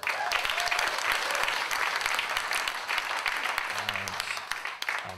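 A live audience claps for Irish traditional musicians on flute, low whistle and fiddle, a dense steady applause that holds for several seconds, with a few faint low tones surfacing near the end.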